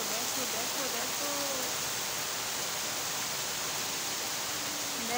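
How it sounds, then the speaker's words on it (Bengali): A heavy monsoon downpour falls continuously, a dense, even roar of rain with no breaks, with a few faint tonal background sounds drifting beneath it. "দেখো, বাপ রে, কি জোরদার বৃষ্টি!"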